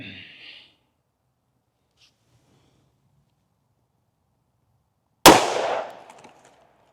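A single sharp, loud 10mm gunshot firing a 135 gr Underwood JHP round into a test setup cracks out after a long quiet stretch and decays with a short echo; a brief voice is heard at the start.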